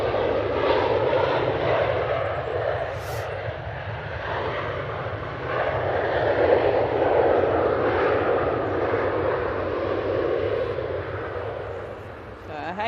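A Ryanair plane landing at Manchester Airport gives a sustained, loud engine roar that rumbles steadily for several seconds, with people talking over it.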